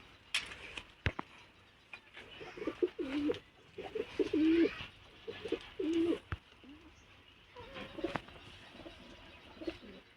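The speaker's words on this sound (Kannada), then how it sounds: "ಇದರಲ್ಲಿ ಕೆಲವೊಂದೆಲ್ಲ ನ್ಯೂ ಪಿಜನ್ಸ್ ಇದೆ, ನೋಡ್ಬೋದು." Pigeons coo softly in a loft, several low rounded calls in a loose rhythm over faint background noise, with a few sharp clicks and knocks from the birds moving about.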